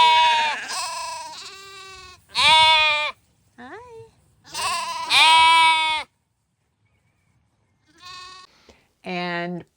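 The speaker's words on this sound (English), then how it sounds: "I have a flock of Finn sheep" Finn sheep on a working farm bleat repeatedly in loud, harmonic calls, several animals taking turns with short pauses and near silence between bursts.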